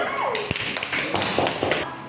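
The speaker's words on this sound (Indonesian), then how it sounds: "Tepuk tangan" A classroom of students claps hands together in a short burst of uneven, separate slaps, briefly overlapping a voice at the start.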